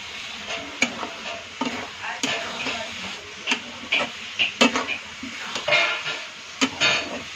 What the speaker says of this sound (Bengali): এরকম করে একটু স্লো গ্যাসে ফেসে মানে ভাজতে হবে।